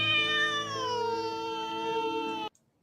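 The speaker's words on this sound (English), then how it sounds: "The cat's pissed." A cat gives a long, loud, drawn-out angry yowl close by, sustained for over two seconds before cutting off abruptly into silence.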